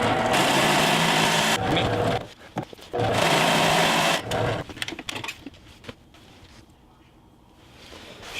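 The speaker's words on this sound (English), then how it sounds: "So I'm going to drill these out from the 1/2 inch that they're at to 3/4 of an inch." A power drill whines loudly in steady bursts, enlarging holes from 1/2 inch to 3/4 inch for a seat install in a 2007 Dodge Sprinter, stopping and restarting, then trails off into quiet handling noise.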